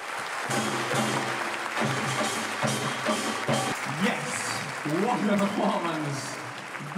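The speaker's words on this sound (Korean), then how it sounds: "박수와 환호가 오래도록 계속됩니다." A large outdoor audience at a Korean military traditional band performance in Hamina, Finland gives sustained applause and cheering, a dense steady roar of clapping that swells near the end, with a narrator speaking over it.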